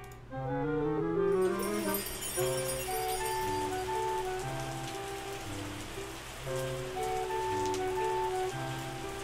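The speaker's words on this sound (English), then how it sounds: "So much rain this season." Rain in the video game Terroir patters steadily beneath a game's melodic music, a soft continuous hiss of drops that continues throughout.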